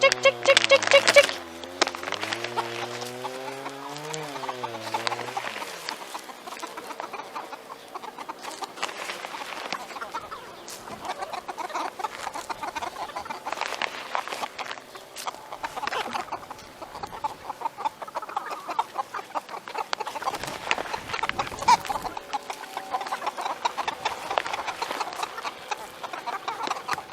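Chickens cluck steadily in a garden, a busy chorus of close, overlapping clucks and murmurs that begins with a drawn-out call.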